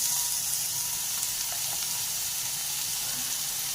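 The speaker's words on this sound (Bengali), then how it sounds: "এবার ভালো করে পেঁয়াজ লঙ্কার সাথে আবারও এটাকে একটু ভেজে নেব" Tomato frying in a pan with onion and green chilli, a loud continuous close sizzle with faint stirring underneath and no voices.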